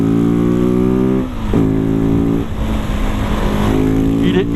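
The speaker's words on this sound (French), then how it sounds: "Un coup de gaz et ça repart." Loud, close single-cylinder roar of a Husqvarna 701 supermoto motorcycle, steady droning with sharp throttle changes and gear shifts, the pitch dipping and climbing again as it revs back up.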